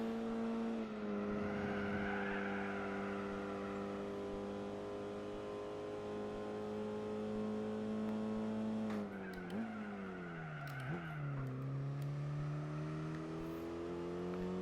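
A race car engine from Gran Turismo 4 drones loud and close, its pitch climbing through a long gear, then dipping and wavering with brief tire squeal before rising again, no voices over it.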